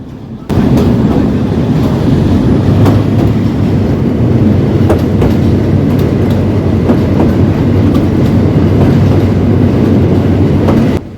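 A train rumbles steadily along the rails between Ghorashal and Narsingdi railway station, Bangladesh, with continuous rattling and occasional clacks, loud and close throughout.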